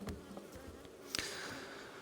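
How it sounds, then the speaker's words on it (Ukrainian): A steady insect drone fills the background, several honeybees humming close by at their hives with a sharp brief knock partway through. "Так само чудова кількість бджоли."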